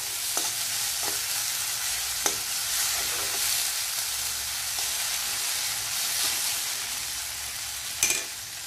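Grated bottle gourd frying over high flame in a pan for a sweet, a steady broadband sizzle with a few soft scrapes and clinks of a spatula, close and continuous with no talking.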